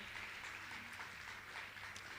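Steady, fairly faint audience applause in a hall at a Jain religious gathering with Muni Shri Praman Sagar, continuous clapping with no voices over it.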